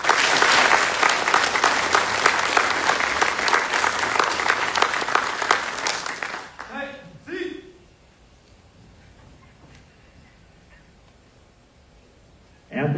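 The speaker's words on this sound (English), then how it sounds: "Please join me in a round of applause for the winning squad of the drill and ceremony competition." At a Drill Sergeant Academy graduation ceremony, a crowd applauds the winning drill and ceremony squad. Loud, dense clapping lasts about six seconds, then stops abruptly, leaving a few stray sounds and near-quiet, with a new sound starting at the very end.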